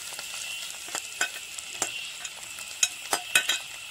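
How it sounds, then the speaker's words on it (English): Crushed dried chili and spices stirred in a frying pan for a pumpkin leaf dish, a continuous hiss of sizzling oil punctuated by light scraping stirs and soft clinks, close up and without voices. "and stir well"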